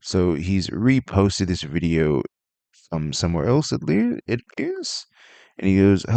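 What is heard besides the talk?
No distinct noise like a dog, phone or traffic.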